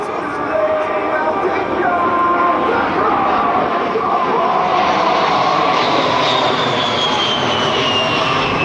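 A loud A-10 Warthog jet roars steadily overhead at an airshow with a rising whine, its engine noise filling the whole stretch without pause.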